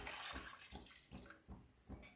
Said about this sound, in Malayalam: 4 കപ്പ് വെള്ളം അത് ഇതിലേക്ക് ഒഴിക്കുക.